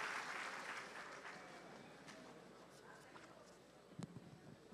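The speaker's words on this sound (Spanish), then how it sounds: "El aplauso para ellos." An audience at a water forum applauds its speakers, a loud clapping burst at the start that gradually thins and fades, followed by a brief thump near the end.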